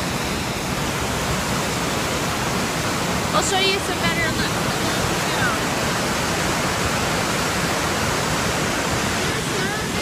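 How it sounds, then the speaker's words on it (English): Athabasca Falls roars as a dense, constant wash of rushing water filling the whole scene, loud and unbroken, while a person talks briefly over it. "And that sound you hear is the falls."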